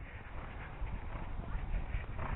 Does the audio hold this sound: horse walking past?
yes